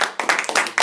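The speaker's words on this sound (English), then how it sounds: "Let's give a round of applause." Brief burst of audience clapping after a student's persuasive speech in a classroom, several uneven bursts of hand claps close by, fairly loud, lasting under a second.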